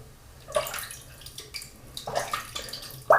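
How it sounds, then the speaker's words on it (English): Small splashes of water trickle onto shaving soap lather in a shaving bowl, a few quiet, close wet dribbles and gurgles spaced through a short stretch, with faint splattering between them. "I'm just dribbling a little bit of water on there."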